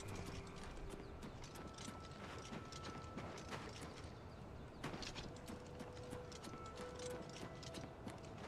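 Horse hooves clip-clopping at a steady trot in the Oblivion Remake video game, riding through the Shivering Isles, with faint mechanical clicks and a soft whinny alongside.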